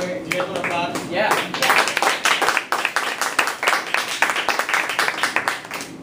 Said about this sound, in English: Do you guys want to clap?